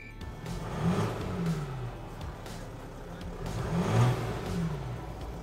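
A 2017 Mercedes GLS 350d 4Matic diesel engine runs steadily with two gentle rev swells, a quiet, smooth mid-range hum heard alone.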